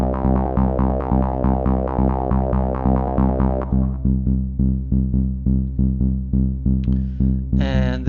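Trance low-end bass layer from a custom Minordic synth preset, played alone as a steady pulsing run of evenly spaced notes, loud and rich with harmonics, briefly joined by a few bright noisy accents near the end.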